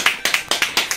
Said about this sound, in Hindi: सब बजा रहे ताली ताकि चुप हो